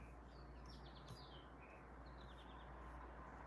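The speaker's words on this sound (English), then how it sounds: "birds sound cool" Faint bird chirps and short twittering calls sound over a low, steady background hum, distant and sparse.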